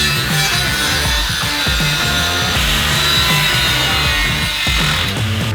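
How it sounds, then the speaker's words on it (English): Power tool cutting a corner out of a metal part on a turbo LS1 engine build, a continuous loud grinding whine with steady rhythmic pulsing, close up and without any talk. "I'm going to drill out the corner and then cut it out"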